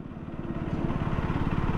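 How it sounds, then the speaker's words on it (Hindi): A 2024 KTM Duke 250 single-cylinder motorcycle engine pulls at low speed around 25–28 km/h in fourth gear, a steady, rapid low thumping pulse, close and loud without knocking, with no talk over it. "आप इंजन की साउंड भी सुन लीजिए।"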